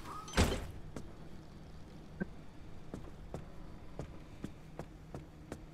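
A car door fitted onto a vehicle in the driving survival game Pacific Drive, heard as one loud thunk near the start and then a series of faint, evenly spaced clicks and taps.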